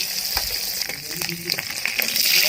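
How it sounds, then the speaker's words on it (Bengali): Small puti fish, turned over, sizzle in hot oil with a steady close frying crackle and scattered pops, rising slightly toward the end. "আরেক পিঠটা ভাজা হোক, তারপর আপনাদের দেখাচ্ছি।"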